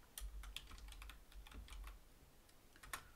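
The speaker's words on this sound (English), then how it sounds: "Talk amongst yourselves while I type that in" Rapid keystrokes on a computer keyboard during a live financial advice show, irregular bursts of clicking at close range with brief pauses, no voices.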